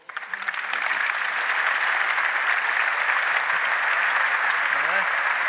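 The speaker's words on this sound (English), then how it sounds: "Applause, people." Steady audience applause filling a lecture hall at the opening lecture of Rotterdam Architecture Month, dense and sustained throughout, with a few brief voices showing over it.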